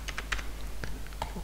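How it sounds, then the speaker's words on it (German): Someone types a password on a computer keyboard, a quiet, close series of quick key clicks in an uneven rhythm, with a few isolated taps at the end. "geben das Passwort hier vielleicht noch mal ein"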